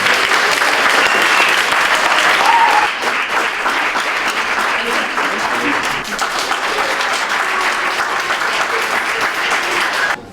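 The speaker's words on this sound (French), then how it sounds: "Mais je crois qu'on peut vraiment les applaudir." Enthusiastic applause from an audience at a school reading competition semi-final, a loud dense wash of clapping that holds steady for about ten seconds before cutting off.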